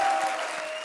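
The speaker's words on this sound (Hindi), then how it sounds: "एक बार जोरदार तालियां इनके लिए।" A studio audience claps for a comedy show act, a short burst of dense, steady applause close by.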